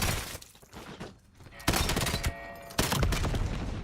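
Video game gunfire: a few sharp bursts of shots with crackling impacts stand out over a busy game soundscape, and a voice is faintly present underneath.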